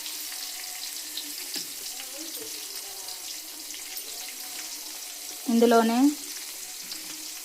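Chopped onion frying in a pan on a low flame for tomato chutney, a soft steady sizzle running throughout with brief stirring clatter and a short spoken word near the end.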